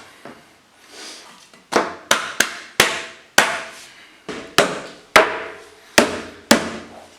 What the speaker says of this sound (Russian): И садим нашу полочку на место.